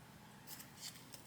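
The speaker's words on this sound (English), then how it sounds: "So I'm going to cut out these zippers." Scissors cut zippers out of fabric in a sewing studio, giving a few quiet, close crisp snips spaced unevenly, with the last one sharpest.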